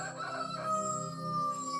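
A rooster crows once in a long, drawn-out call, clear and fairly close, with no talking over it.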